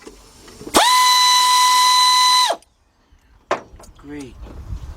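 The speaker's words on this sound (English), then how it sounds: "let's go ahead and finish taking that bolt out of there." A power tool whines loudly for about two seconds while backing a bolt out of the engine of a 1977 Buick LeSabre with a 5.7 V8, followed by brief clanks and handling noise.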